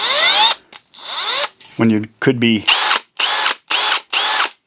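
A Milwaukee M12 cordless drill spins up in repeated short bursts, a series of whirring pulses alternating with brief pauses, up close, with a voice speaking briefly between them.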